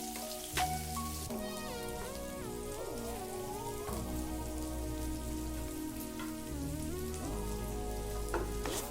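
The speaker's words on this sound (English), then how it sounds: "Goes in onion. Likewise, fry for a couple of minutes." Onions frying in a pan make a steady, dense sizzle that runs the whole time beneath fairly loud background music.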